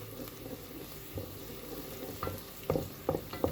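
Liver pieces and garlic cloves cooking gently in a pan, a soft low sizzle with occasional stirring knocks and scrapes that grow louder and more frequent toward the end, no voices.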